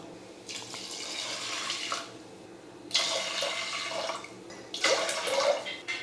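Water pours in three separate bursts, splashing into a cooker holding rice and lentils, with quieter gaps between each pour.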